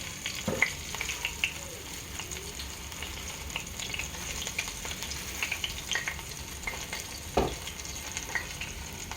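Sweet, hot and spicy chicken wings frying in a pan, a steady close crackling sizzle with a few sharper pops and spoon knocks, no talking.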